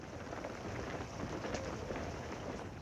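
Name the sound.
rain falling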